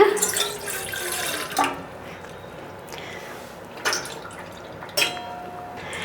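Soaked tamarind water is poured into a vessel in a kitchen while making coconut milk fish gravy, giving a close, splashing liquid pour with a few brief louder splashes and no talking.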